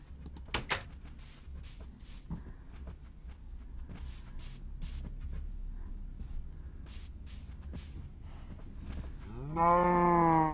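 Minecraft cows give a single low, drawn-out moo near the end, after a stretch of scattered clicks, taps and quiet game noise; nobody speaks over it.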